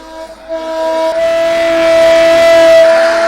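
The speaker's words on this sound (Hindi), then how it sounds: "सबने पहले मैनुअल सायरन को टेस्ट किया।" A manual air raid siren is sounded as a test during a civil defence mock drill: a loud, steady, sustained wailing tone that swells in volume after the first second and holds continuously, with no voices.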